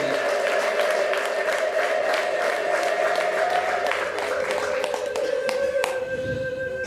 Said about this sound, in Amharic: ለጌታ ከፍ ያለ ጭብጨባ እንልቀው